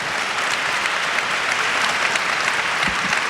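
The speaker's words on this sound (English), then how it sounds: "Please applaud this woman and all the women on this panel." Audience applause fills a summit panel on women and criminal justice, a dense, steady clapping from a crowd that holds evenly throughout without any talk over it.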